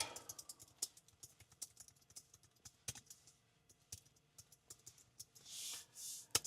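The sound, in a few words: typing on a computer keyboard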